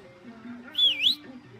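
A single short rising-and-falling whistle sounds in Far Cry 6, bright and fairly close, over a low ambient game hum, with no other voices.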